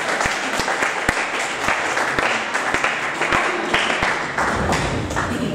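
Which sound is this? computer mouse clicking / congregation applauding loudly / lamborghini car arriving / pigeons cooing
congregation applauding loudly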